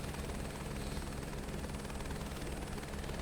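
A helicopter flying in Microsoft Flight Simulator 2024 gives a constant, loud rotor chop and engine whine filling the short stretch evenly, heard alone with no talking.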